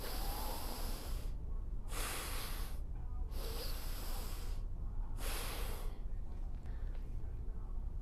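Forceful exhales through the mouth during a 360 breathing exercise: four strong, hissing breaths about a second long each, evenly spaced and close, followed by quieter breathing.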